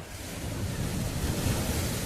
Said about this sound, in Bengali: ঢেউ আছড়ে পড়ছে পাথরের উপর